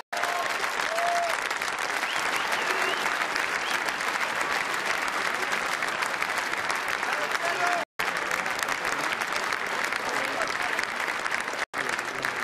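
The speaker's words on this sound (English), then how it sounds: "May we have another round of applause for two world-class players." An audience at the final of the 2012 Welsh Open snooker tournament gives a sustained round of applause, a dense, even wash of clapping lasting several seconds and heard without talk.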